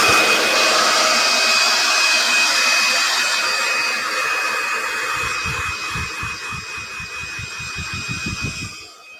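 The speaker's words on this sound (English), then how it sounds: "I'm going to hit it one more time with the blow dryer just to get it dry" Blow dryer running loud and close while drying a chalk-paint design on an 18-inch wood round wreath, a steady high whine that fades and sputters into pulsing airflow as it winds down at the end.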